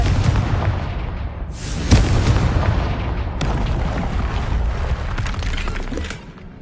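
Confringo blasting-spell blasts in Hogwarts Legacy, a heavy booming explosion near the start followed by another burst midway, with rumbling debris and crackle filling the gaps; loud and close, no talk.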